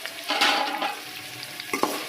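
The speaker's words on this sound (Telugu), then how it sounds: "నూనె వేడెక్కింది కదా, ఇందులో కట్ చేసి పెట్టుకున్న ఆనియన్ వేసేసుకోవాలి." Chopped onions hit hot oil with a loud hissing sizzle, sharpest near the start, then settle into steady crackling frying with a couple of stirring scrapes near the end; no one talks.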